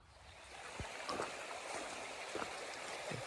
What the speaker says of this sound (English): Nice little river right here.